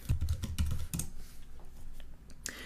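Rapid, uneven keystrokes on a computer keyboard, a close cluster of clacks that pauses and then resumes with a few scattered taps.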